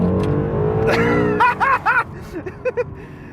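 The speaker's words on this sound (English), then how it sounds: "you flick this switch, put it into Sport Plus mode, floor it" A Honda NSX hybrid supercar in Sport Plus mode is floored, its engine note climbing steadily before breaking into a string of sharp, pulsing rev bursts as it accelerates hard, loud and close.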